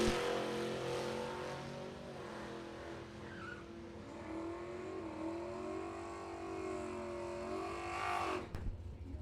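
Drag race cars, a Nova and a Vega, roar down the strip side by side, a steady heavy engine drone with rising harmonic whine heard from a distance, ending in an abrupt drop-off.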